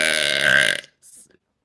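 A loud, drawn-out voiced burp sounds close up and fills most of a second, then cuts off, followed by a short faint trailing noise.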